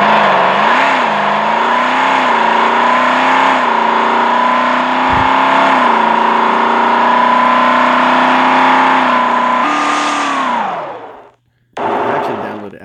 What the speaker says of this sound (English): I want you guys to hear this car real quick